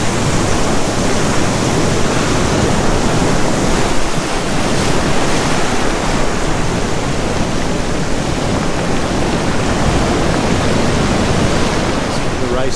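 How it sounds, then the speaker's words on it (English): Large ocean swell waves and white water crash at sunrise on the coast at Crescent Head, NSW, in a loud, continuous roaring surf wash with wind buffeting the microphone throughout and no clear breaks between sets. "as I speak there's a few more waves coming now"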